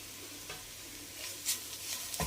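Beetroot curry frying in a pan, a soft sizzle broken by a few scraping stirs of the spoon, with a sharper clack at the end.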